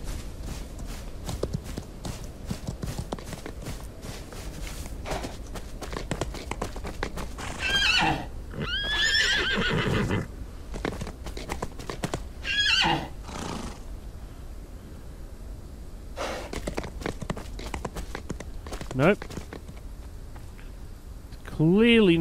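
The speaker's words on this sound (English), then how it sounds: "let's see if we can work out how to tame this horse." Horse whinnies and neighs in a western video game, with clip-clop of hooves walking and running through a noisy outdoor scene; several distinct neighs stand out, the loudest near the end, and a voice talks intermittently.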